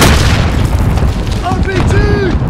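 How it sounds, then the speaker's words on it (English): A grenade goes off during an online match of Call of Duty Modern Warfare on the Talsik Backlot map, a loud, rumbling explosion that fills the start and fades into continuing battle noise, with voices calling out over it. "Grenade out!"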